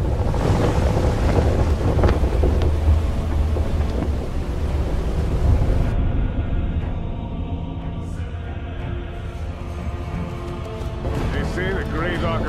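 A sailing ship at sea in the video game God of War Ascension, with steady wind rushing and waves washing against the hull, a continuous loud bed of ocean noise under spoken dialogue.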